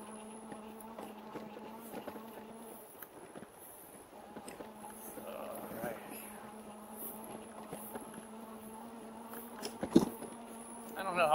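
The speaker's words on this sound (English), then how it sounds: "You hear the crickets." Crickets on a warm day, heard while riding an e-bike, make a faint, steady high-pitched chorus throughout, with quiet rumbling and occasional soft knocks underneath.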